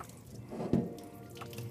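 Water from a pot of cut potatoes strained off in a kitchen sink, a brief splashing gush peaking near the middle of a short, fairly quiet stretch with faint running-water hiss around it.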